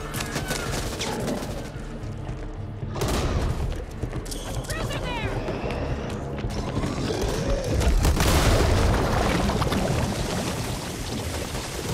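Propane tank blowing up in the zombie shooter Back 4 Blood, loud booming blasts and crackling debris amid continuous gunfire and chaotic game noise, with voices shouting over it.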